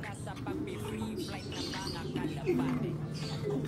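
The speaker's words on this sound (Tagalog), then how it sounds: "Ayun, tumunog mga kalapatids." Taiwan pigeons cooing nearby, low soft coos repeating under steady talk.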